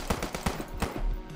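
Rapid gunfire in the Police Stories game, a loud close burst of about five sharp shots at an uneven rhythm, then a brief low rumble.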